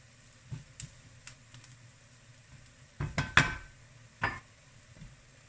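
Spices frying in a pan before tomatoes go in, with soft background sizzle broken by a cluster of sharp clatters and scrapes of utensil against pan, then one more knock.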